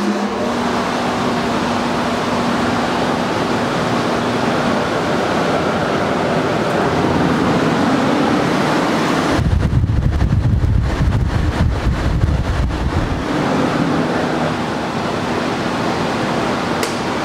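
A 2005 Denray dust booth with a 7.5 HP motor rated at 10,200 CFM, fitted with an enclosure, runs with a steady broadband whoosh of moving air. A heavier low rumble rises for a few seconds midway, then eases back to the even hum.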